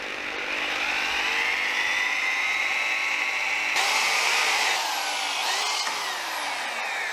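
A power drill bores steadily into metal on a cafe scrambler motorcycle build, a loud continuous whine that shifts pitch midway and near the end as the bit bites and slows.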